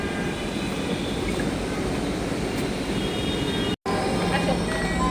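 Inside a moving metro rail train, a loud, steady rumble of the carriage fills the space without a break. The sound cuts out briefly near the end.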